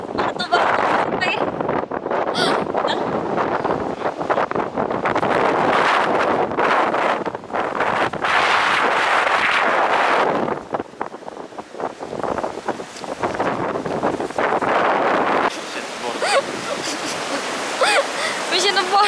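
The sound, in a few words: wind blowing over rocks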